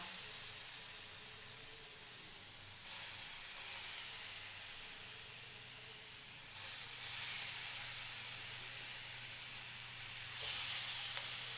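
Paneer tikka skewers sizzle on a hot roti pan, a soft, steady hiss that swells in a few bursts over nearly twelve seconds, fairly faint and with no talk.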